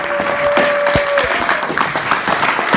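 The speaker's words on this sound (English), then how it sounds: "A round of applause for Mr. Brian R.O.E." A short burst of audience applause for a performer named Brian Roe, close and loud clapping with some crowd noise and a brief tonal sound near the start.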